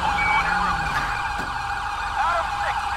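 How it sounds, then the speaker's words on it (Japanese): Wailing fire truck siren in GTA5 during a snowstorm patrol, loud and continuous with repeated rising and falling sweeps over steady engine rumble throughout. "おお、消防車が。"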